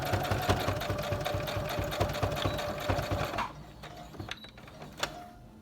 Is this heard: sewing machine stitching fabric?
yes